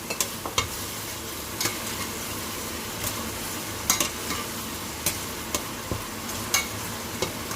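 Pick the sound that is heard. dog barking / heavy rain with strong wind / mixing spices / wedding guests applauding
mixing spices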